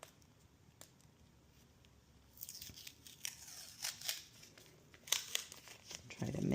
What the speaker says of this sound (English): this is where I'll use my correction tape. I'm going to cover it up.